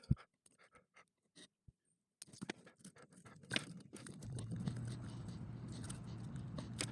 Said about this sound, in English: So I should be able to peel this hot glue off